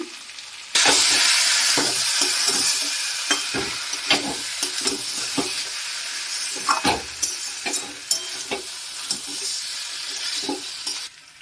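Masala sizzling loudly in a pan right after Kashmiri chili powder goes in for prawn and jackfruit curry, a steady close hiss with repeated scraping stirs and small clinks throughout.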